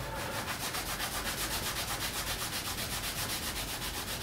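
Steady back-and-forth scrubbing of an abrasive pad over window blinds to lift leftover glue residue, a continuous close rubbing rasp with a regular stroke rhythm and no talk.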